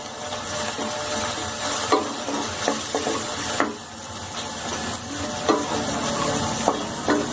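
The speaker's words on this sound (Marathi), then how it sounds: "मध्यम आचेवरती छानसं परतू द्यायचं त्याला" Spices sizzle steadily in a hot pan over medium heat while a utensil stirs and scrapes with occasional clicks, close up.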